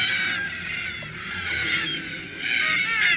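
A flock of red-tailed black cockatoos calls continuously at evening, harsh raspy screeches overlapping in a noisy chorus, some near and some farther off.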